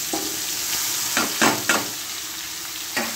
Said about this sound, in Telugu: మన పోపు వేగిపోయింది